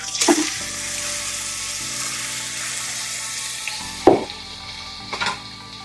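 Chicken goes into hot oil with a spiced tempering for a spicy village-style curry, giving a loud, steady sizzle with a few sharp bursts of crackle as pieces land and get stirred.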